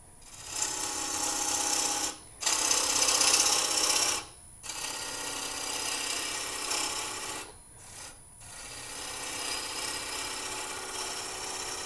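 A lathe-turned wooden bowl taking bevel-rubbing cuts from a gouge, a steady rasping shear in long passes broken by brief silent pauses as the tool lifts away, close and even in level.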